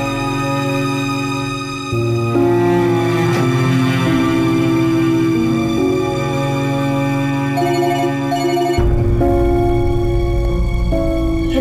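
A mobile phone rings with a melodic ringtone that plays loud and steady for about eleven seconds, its tune shifting in pitch partway through, with no voices over it.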